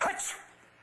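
A single quick sneeze bursts out at the start of an indoor drama scene, then fades into quiet room tone.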